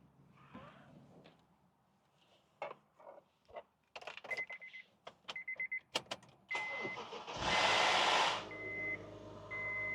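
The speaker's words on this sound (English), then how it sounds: "I'm going to start the car so you can hear the engine" A Honda Accord engine with 350,000 miles cranks and catches with a loud rising roar after scattered clicks, beeps and knocks, while a steady electronic chime repeats throughout.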